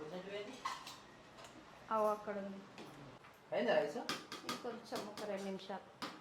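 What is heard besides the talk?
pots and pans clattering in kitchen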